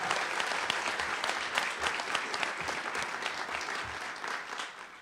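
An audience at a stadium celebration claps for a speaker coming to the podium, a sustained, dense wash of applause that holds steady and then begins to thin toward the end.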